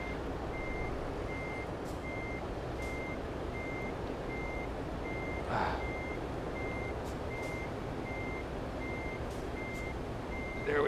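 Reversing beeps from a truck backing up B-Train double trailers in Euro Truck Simulator 2: an evenly spaced electronic beep repeating throughout over a steady engine rumble, with faint clicks.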